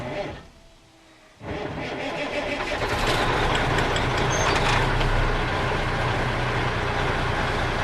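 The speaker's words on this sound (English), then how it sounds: "Start my truck. I need to show oil pressure within 5 seconds. I'm going to shut it off immediately." A truck engine cranks and catches, then settles into a loud, steady diesel-like idle close by, running continuously to the end.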